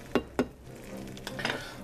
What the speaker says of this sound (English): I'm just frying up some ground beef.